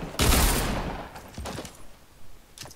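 Submachine gun fire in a shooting game, a loud close burst at the start followed by a few scattered fainter shots trailing off, with no voices.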